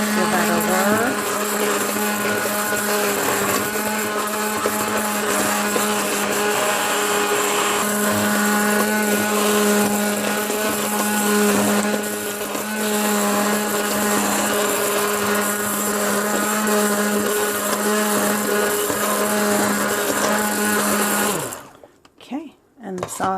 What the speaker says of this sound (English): So we have our immersion blender. So we're just going to give that a whirl.